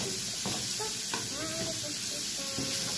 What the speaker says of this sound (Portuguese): Então bora esperar o alho ficar mais fritinho